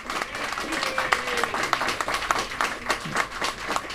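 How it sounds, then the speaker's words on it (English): An audience at a mind sports competition applauds the champions, a short burst of clapping that carries on steadily with faint voices underneath. "another round of applause for our champions"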